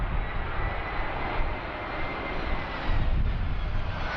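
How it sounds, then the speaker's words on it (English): Loud, continuous roar of an Airbus A320's jet engines, a broad, steady rushing drone that swells slightly toward the end, heard from fairly close with no voices. "All right, we have an Airbus A320 by Easy."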